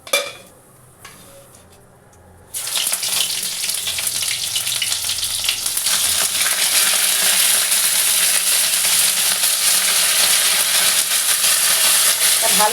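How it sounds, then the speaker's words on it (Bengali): Cauliflower florets fry with whole cumin seeds in a pan, starting with a few quiet clinks before a loud, dense sizzle bursts in after about two seconds and holds steady to the end. "গোটা জিরেটা দিয়ে আমি কিন্তু কপিগুলো আগে ভালো করে ভেজে নেব।"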